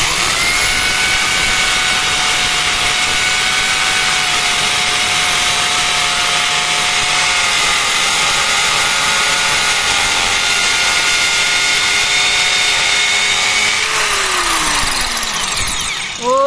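A loud IBELL electric drill runs continuously as it bores deep into material, its steady high whine holding for about fourteen seconds before winding down as the motor slows.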